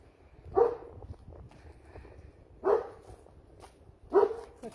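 A dog at a house barks three times, spaced about two seconds apart, each bark short and moderately distant over a low background rumble, with no talking.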